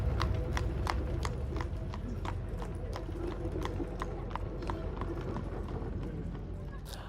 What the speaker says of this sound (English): Our young folks, when they get 16, we get them a horse and a buggy